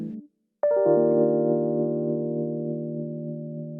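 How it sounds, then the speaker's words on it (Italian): A stage electric piano with a delay effect plays, either a Yamaha YC73 or a Roland RD88. A brief note is followed by a sustained chord that rings clearly and decays slowly, with no talking over it. "il piano elettrico suona radicalmente diverso se si suona"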